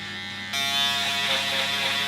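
Electric hair clippers switch on with a sudden steady buzz and keep running close up, cutting a fade, the whine wavering slightly as they trim.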